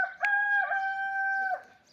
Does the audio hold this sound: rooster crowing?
yes